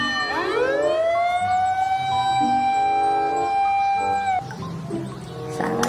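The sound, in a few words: toy fire truck siren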